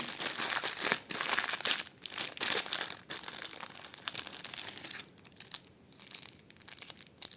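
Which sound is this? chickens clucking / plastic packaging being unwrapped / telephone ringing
plastic packaging being unwrapped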